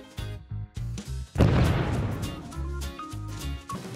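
A cannon fires in the Stumble Guys video game, a sudden loud booming blast that swells and slowly decays over an upbeat, rhythmic game music loop.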